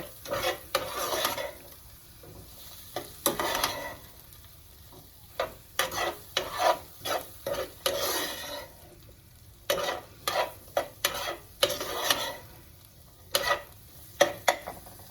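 Squash slices cooking in a pan for calabacitas con queso, with soft sizzling under repeated stirring and scraping strokes that come in uneven bursts and close up.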